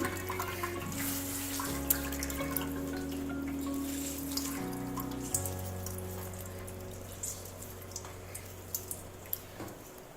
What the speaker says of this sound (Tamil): நம்ம பச்சை தண்ணி விட்டு நல்லா கழுவி எடுக்கணும்